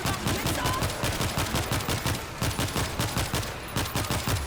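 Sustained automatic gunfire in the zombie shooter World War Z, rapid rhythmic bursts close and loud, continuing almost without pause throughout.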